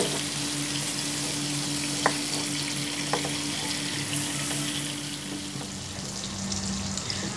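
Prawns frying in oil in a pan make a steady, dense sizzle that stays even and continuous from start to finish, with a couple of faint clicks and no voices.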